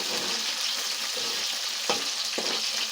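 Dried shrimp sizzling and frying in a pan, a steady hiss with a couple of sharp scrapes as a spoon stirs them; no voices.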